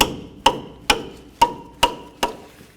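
A rubber mallet strikes a 15mm wrench on the upper control arm nut of a 2004-08 Ford F-150: six sharp, loud knocks about half a second apart, each ringing briefly, with no talking.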